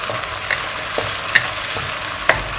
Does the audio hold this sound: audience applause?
no